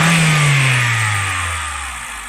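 A car engine revs up loudly and then slowly winds down, its pitch falling steadily as the roar fades.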